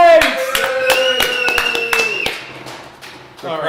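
Small crowd clapping at a shop gathering, a cluster of sharp, close claps and a few whoops, mixed with a voice and a shout.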